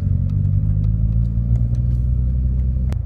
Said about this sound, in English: pushing the clutch, change the gear, let go of the clutch, give it gas